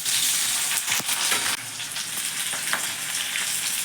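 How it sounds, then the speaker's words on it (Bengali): Garlic and onions sizzle loudly in a pan, a constant crackling hiss broken by a few sharp scrapes of stirring, close and with no talking. "আমার এগুলি একটু ভাজা হয়ে গেছে"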